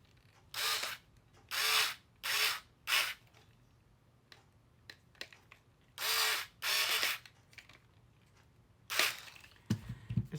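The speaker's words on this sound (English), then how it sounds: "I am going to use the electric driver to save some time." An electric screwdriver drives screws into a Tamiya DT-02 Holiday Buggy RC car kit, giving several close, loud whirring bursts of about a second each, separated by quiet gaps and small clicks.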